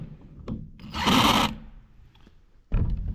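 A socket wrench works loose a small 5/16 screw on the seed meter of a Kinze 2600 bean planter, with a long burst of ratcheting and scraping in the middle, a few light clicks, then another loud bout at the end.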